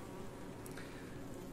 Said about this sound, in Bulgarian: Пчелите им се работи, но дъжда не позволява.